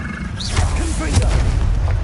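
Confringo spell blasts in Hogwarts Legacy, a loud booming burst over a constant bed of game noise and music, dense and close throughout.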